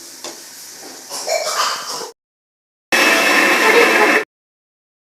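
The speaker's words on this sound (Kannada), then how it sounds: "ರುಬ್ಕೊಂಡಿದ್ದು ಆಗಿದೆ ನೋಡಿ ಇಷ್ಟು ನುಣ್ಣಗೆ ರುಬ್ಕೊಬೇಕು" A kitchen mixer grinder whirs loudly, grinding brinjal sambar ingredients to a fine paste in a steady, buzzing run, stops briefly, then starts again for another short burst before cutting off.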